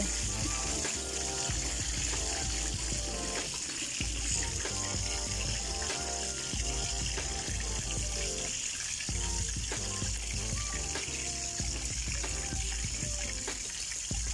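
Chicken necks frying in hot, bubbling cooking oil give a steady, dense sizzle and crackle that runs without pause at an even level, close and alone.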